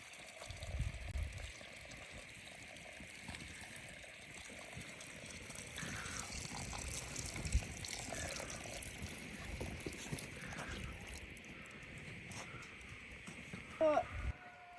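Water pours and splashes steadily into a cauldron of washed rice for plov, a continuous gushing trickle with some faint background noise.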